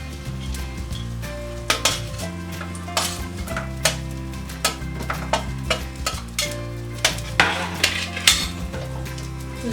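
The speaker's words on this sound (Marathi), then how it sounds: "त्यानंतर आपण आधी थोडे लसूण फ्राय करून घेऊया।" Garlic fries in a couple of spoons of oil in a pan, with a steady sizzle under repeated scraping and clinking from a utensil stirring it.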